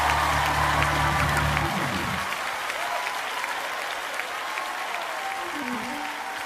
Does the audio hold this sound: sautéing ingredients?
no